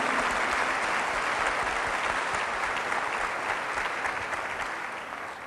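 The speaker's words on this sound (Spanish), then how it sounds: "Un aplauso al Señor." A church congregation applauds during a sermon, a dense, sustained wash of clapping with no talk, fading slightly at the end.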